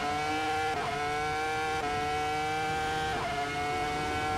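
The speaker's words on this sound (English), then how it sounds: "And I love the sound of this engine, it's so awesome." A Ferrari engine fitted to a Volvo in the Assetto Corsa racing game, held at a steady high-pitched drone with a few brief gear-shift dips, loud and continuous with no talking.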